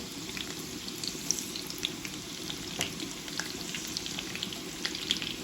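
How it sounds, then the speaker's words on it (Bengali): Chopped garlic and onion with whole cumin frying in oil in a pan for mixed dal, giving a soft, steady sizzle with light intermittent clicks. It is moderately quiet and continuous, with no talk. "পেঁয়াজ আর রসুনটাকে আমি একদম লাল লাল করে ভেজে নিব"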